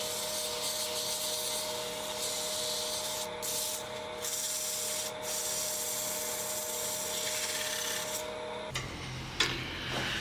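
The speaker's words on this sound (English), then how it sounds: "just give this a touch of 240 grit" Sandpaper of 240 grit rubbing over a wood-turned seed pot mold, a steady close scratchy hiss running for about eight seconds with a few brief pauses, then stopping abruptly near the end.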